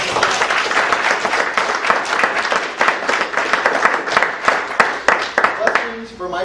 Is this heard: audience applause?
yes